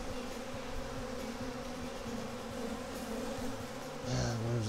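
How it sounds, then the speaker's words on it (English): Continuous low droning of a swarm of honey bees buzzing up close from an aggressive hive, steady throughout with a brief louder surge near the end. "If so, you can probably hear them buzzing pretty"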